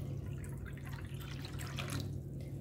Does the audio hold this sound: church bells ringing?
no